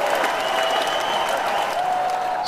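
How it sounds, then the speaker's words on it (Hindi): Supporters at a chess match, Soldier vs Rookie, clap steadily in a brief burst of applause with some crowd murmur, moderately loud and continuous. "तालियों के साथ उन्हें भी चीयर किया जा रहा है।"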